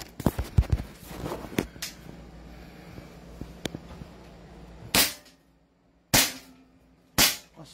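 Gas-powered airsoft pistol fired three times, sharp, loud cracks spaced about a second apart near the end, preceded by quieter handling clicks and faint talk.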